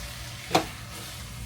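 Chorizo, potatoes and eggs get stirred in a frying pan, with a low continuous sizzle and one sharp scrape of the spatula partway through.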